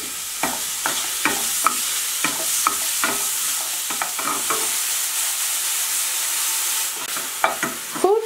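Finely chopped onion sizzles steadily in oil in a pan while a utensil scrapes and stirs in repeated rhythmic strokes, close and fairly loud.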